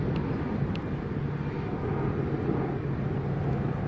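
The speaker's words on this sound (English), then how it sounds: "I'll turn the drone on." An AEE Condor fishing drone, 500m version, powering up with a steady low droning hum that holds at an even level throughout, with no talking.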